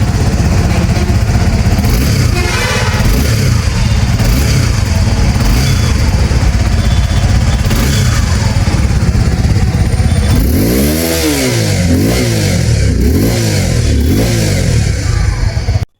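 A Suzuki V-Strom 250 adventure motorcycle with a double-barrel exhaust, idling loud and close, then revved in several rising and falling blips toward the end before cutting off.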